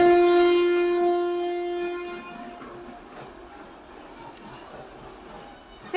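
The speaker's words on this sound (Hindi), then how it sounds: "पहली ट्रेन रवाना हो चुकी है।" A passenger MEMU train departs, its loud horn blaring at the start before fading into a steady rolling rumble of the moving cars.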